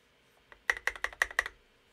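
About six crisp, evenly spaced keystrokes on a mechanical keyboard fitted with new Maxkeys Virtual War keycaps sound close and clear, clacking in a quick burst after a softer first tap.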